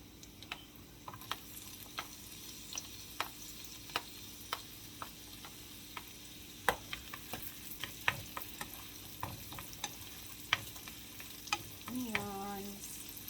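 Onions fry in hot oil for a green bean and ground pork dish, giving a soft continuous sizzle under sharp, irregular clicks of a utensil stirring against the pan, with a brief scraping flourish near the end.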